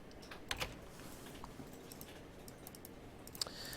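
A few sparse, faint keystrokes on a computer keyboard in a quiet room, with two quick clicks near the start and one more near the end.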